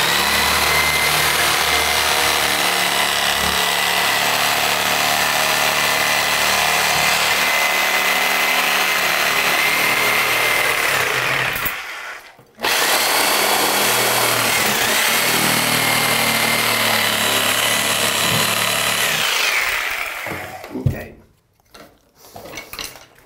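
Loud, continuous high-pitched whine of a power tool cutting through bathroom wall board beside a tub, steady for about eleven seconds, a brief pause, then another long cut that winds down with a few clunks at the end.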